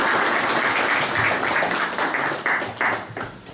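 Applause at a boxing press conference, a loud, continuous clatter of clapping from the room that breaks into uneven bursts before fading out.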